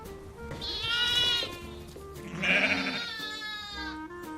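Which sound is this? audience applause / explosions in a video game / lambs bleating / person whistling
lambs bleating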